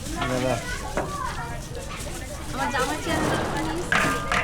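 Food being sautéed and stirred in a pan at a rooftop picnic cookout, a steady sizzle with scraping stirs under overlapping chatter of several people nearby.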